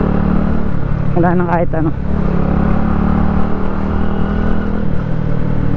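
A motorcycle rides along a road in the Philippines with a steady engine drone and wind rumble throughout, while someone speaks briefly over it.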